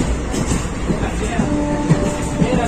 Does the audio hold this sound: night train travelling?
yes